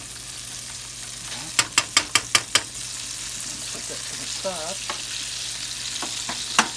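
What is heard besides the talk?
steak sizzling in a frying pan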